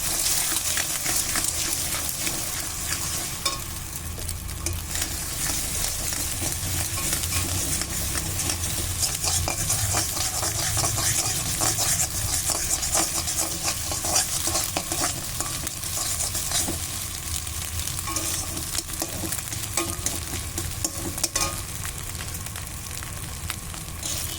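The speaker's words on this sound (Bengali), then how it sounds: "ডিমটা আমি ভালো করে ভেজে নেবো" Two cracked eggs frying in a pan for a radish and egg dish, a steady close sizzle with scraping stir sounds and light utensil clinks running throughout, no voices.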